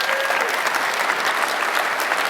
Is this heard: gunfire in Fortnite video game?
no